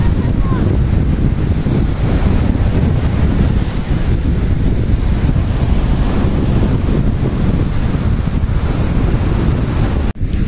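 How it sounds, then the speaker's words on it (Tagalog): Strong wind buffets the microphone in a steady roar over crashing ocean surf at a beach, continuous throughout with no pauses. "sobrang lakas daw po ng hangin. Maalon din po"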